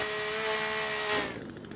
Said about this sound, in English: Here's my chainsaw. I got a chainsaw on this one.